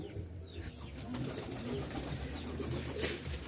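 Soft, low cooing of Giribaz pigeons at a pigeon fair in Rajshahi, Bangladesh, repeats at a moderate distance over a steady background hum, with no one speaking.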